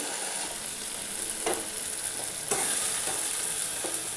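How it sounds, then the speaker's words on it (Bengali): Paneer pieces sizzle and fry in a pan of spice masala for a vegetarian paneer dish, with steady crackling and a few louder stirring scrapes and clinks of a spoon against the pan. "দেখুন মশলাটা একদম সুন্দর করে ভাজা হয়ে গেছে এবার আমি পনিরগুলো দিয়ে দিচ্ছি"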